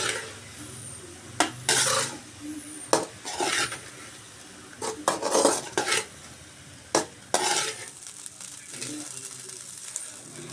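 Spoon stirring Kadbu uppukari, a Mangalorean breakfast dish, in a pan, with a series of sharp metallic scrapes and clinks at irregular intervals over a faint sizzle, close and clear.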